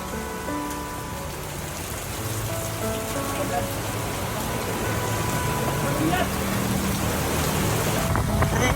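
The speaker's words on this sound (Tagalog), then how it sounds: "Kapakalakas ng ulan." Steady heavy rain hisses and patters across the whole stretch, growing slightly louder toward the end, with faint voices and other sounds underneath.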